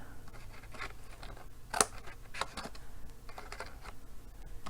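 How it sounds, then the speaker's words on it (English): Metal snips cutting through paper daisy pieces in a crafting project, giving a few quick, close crisp snips over a quiet background with soft rustling. "use our snips to cut off the portions that aren't stuck to the"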